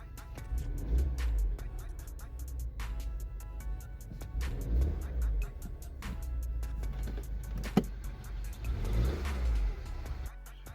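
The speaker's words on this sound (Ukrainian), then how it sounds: "По звуку автомобиль протраивает." A car engine idles unevenly with a misfire on one cylinder, a steady low rumble with periodic surges and uneven pulses, close by and running alone.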